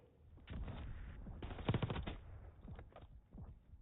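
Video game gunfire sounds in quick automatic bursts and single shots, fairly quiet and compressed, with rapid rattling volleys across the stretch and brief gaps between them.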